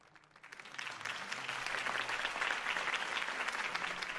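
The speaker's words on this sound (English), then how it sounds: "If only Mr. Wayne, my campaign's largest backer, could have heard that applause" Sustained applause from an audience right after a mayoral campaign speech, swelling within the first second and holding steady as a dense, continuous clatter of many hands.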